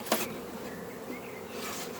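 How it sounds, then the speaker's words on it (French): Honey bees hum around an open hive in a steady, quiet, close buzz, with a brief tap near the start. "ici, vous voyez, il y a pas mal d'abeilles."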